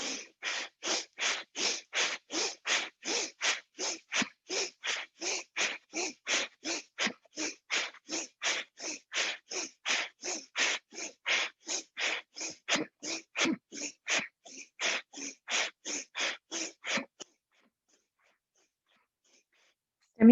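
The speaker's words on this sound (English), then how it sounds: "Stimulating that vagus nerve as you pump the belly." Forceful belly-pumping breaths in a guided breathing and relaxation exercise: about forty quick, even nasal exhalations in steady rhythm, close and moderately loud, then stopping abruptly into silence.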